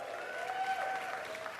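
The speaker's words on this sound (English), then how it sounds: "My round of applause." An audience at a Dave Chappelle stand-up comedy show claps in a brief, even burst of applause, moderately distant, with no talk over it.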